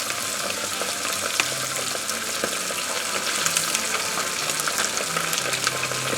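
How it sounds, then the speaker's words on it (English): A batch of pork baby-back rib pieces deep-frying in oil at about 380 degrees, a loud, steady, close sizzle and bubbling that holds even throughout. "I'm going to put about 1/4 of them into the oil at a time and fry them"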